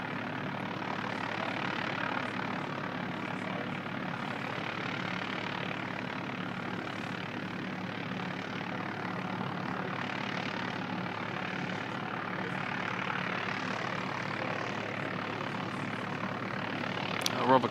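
A DHL Boeing 767 cargo jet at Christchurch Airport, a broad steady engine roar held at moderate distance throughout, swelling and easing gently without a break.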